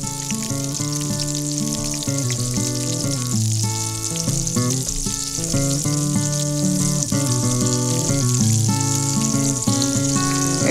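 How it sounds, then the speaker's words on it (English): A breaded fish fillet frying in melted butter and oil, a loud, dense, continuous sizzle close by, with no talk. "So we take our fillet and just lay him in the pan."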